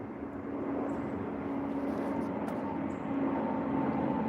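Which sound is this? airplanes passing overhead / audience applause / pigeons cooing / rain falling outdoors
airplanes passing overhead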